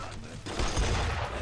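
M1 rifle gunfire in the Brothers in Arms video game comes as a dense, loud burst of rapid shots with a thick, rumbling low end that fills the short moment.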